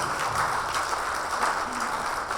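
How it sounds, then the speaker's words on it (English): A large audience claps continuously at a stakeholder summit, dense and steady hand-clapping throughout with no voices standing out. "Can we have a huge round of applause?"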